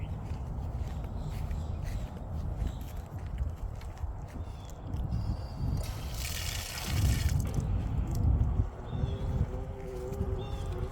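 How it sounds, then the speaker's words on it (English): Water rushing and gurgling through an RV black tank's plumbing during flushing, a steady wet flow with some clunks and splashes, fairly close and continuous throughout. "So now the water is gonna be flushing through here"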